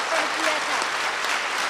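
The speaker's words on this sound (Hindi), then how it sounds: "एक बार जोर से ताली बजाते हुए दादी जी को हैप्पी बर्थडे" Audience clapping together at a Diwali morning birthday celebration for a revered elder at Om Shanti Bhawan, Mount Abu, a short burst of dense, hissing applause with voices mixed in.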